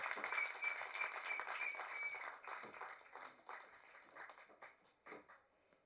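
An audience at a Tamil film press meet gives the film's director a round of applause that starts fairly full, then thins into scattered claps and fades out over a few seconds.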